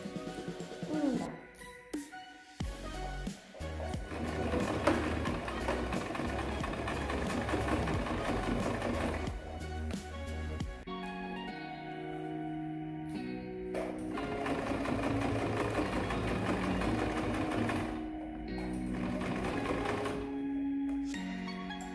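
Sewing machine stitching fabric for a small zippered pouch, running in long steady bursts with brief pauses between seams, close and fairly loud.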